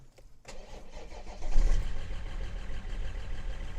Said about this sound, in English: is just give the car a crank.